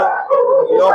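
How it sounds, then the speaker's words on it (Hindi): Dogs outside a temple main gate howl and bay in a sustained, loud, wavering tone that runs without a break through the second. "ये बाहर देखिए कि कुत्ते भौंक रहे हैं मेन गेट के आगे।"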